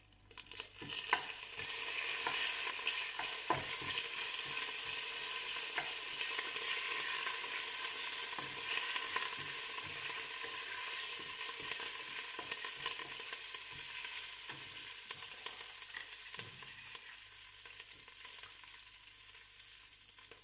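Corn sizzles steadily in hot oil with cumin seeds crackling and popping, a continuous close frying hiss with scattered sharp pops throughout, no voices.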